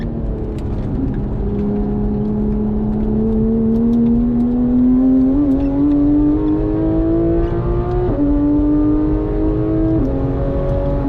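Porsche 991.1 GT3 engine with PDK gearbox on a racetrack, a loud, sustained, rising howl as the car accelerates, pitch climbing steadily with brief dips at upshifts, heard close from inside the car with no talk.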